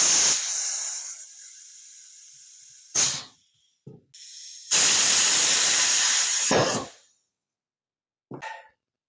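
Compressed air blasts through a rubber tire valve with a bell end and an air nozzle, producing loud hissing bursts: a long blast, a short puff, a second long blast, then a brief final puff.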